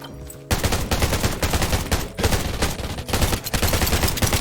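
Rapid gunfire in the mobile shooter game Undawn, dense bursts of automatic shots after a brief quiet start, loud and continuous with short pauses between volleys.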